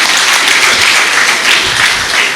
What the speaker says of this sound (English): as our resident governors receive a warm round of applause from all of you